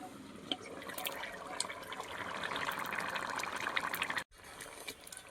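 A pot of curry bubbles under its lid, a faint, busy gurgling and simmering hiss that swells gradually, then drops away abruptly near the end as if the lid is lifted.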